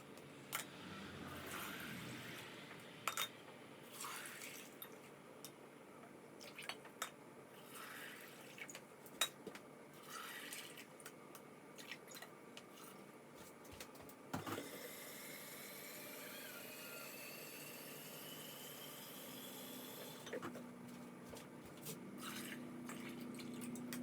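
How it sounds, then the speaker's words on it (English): Water runs into canning jars filled with dry beans for pressure canning, a quiet trickling pour with intermittent clinks and drips. "we're going to fill our jars with water to the bottom of the rim"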